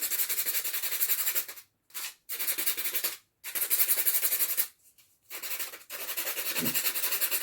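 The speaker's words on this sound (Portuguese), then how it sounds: "Vou fazendo movimentos circulares pra ir lixando." Continuous scratchy rubbing of sandpaper worked by hand in circular motions, in long strokes broken by a few short pauses.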